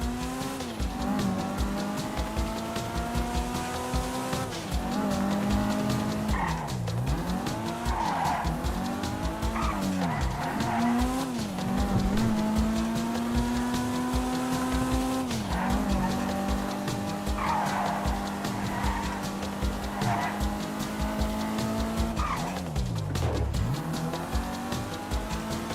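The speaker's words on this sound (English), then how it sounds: "Let's take a look at the fastest lap in the lovely cherry red Kuruma." A cherry red Kuruma car in the GTA Online video game runs a fast lap, its engine droning and rising through the gears while tires squeal and skid through the corners, loud and continuous.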